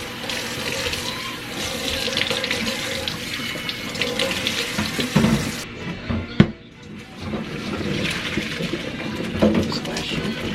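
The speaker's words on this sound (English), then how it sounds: "Splashing." Water runs from a tap into a filling sink, splashing steadily with a brief clatter and pause midway, while voices speak over it at times.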